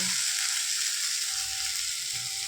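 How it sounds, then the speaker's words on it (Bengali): Onion, ginger and garlic frying in a pan, a steady close hiss and sizzle that holds evenly throughout, with faint stirring clatter underneath and no talking. "দেখো এখানে আমার পেঁয়াজ আদা রসুনটা ভাজা ভাজা হয়ে গেছে।"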